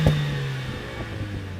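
A Mercedes-AMG A45S with a turbocharged 2-litre four-cylinder gives a short, close exhaust rev that rings out loud at the start, then drops back to a steady hum.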